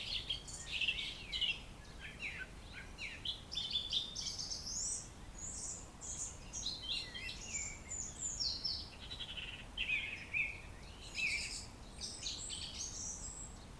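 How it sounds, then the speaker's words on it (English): Several birds sing continuously at a barbel fishing spot, overlapping whistles and twittering phrases rising and falling throughout, moderately close over a quiet, even outdoor hiss. "Just listen to this bird song."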